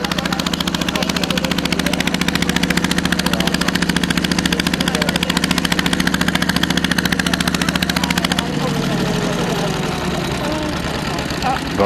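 Boat engine running loud and steady with a rapid knocking chug throughout a ride on a river in Tibet, the pitch and level dropping a little near the end.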